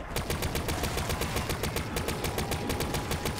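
Rapid, steady automatic fire from battle rifles in the Call of Duty zombies map Zetsubou no Shima, shots cracking in an even, fast rhythm. The bursts sound loud and close and continue without a break.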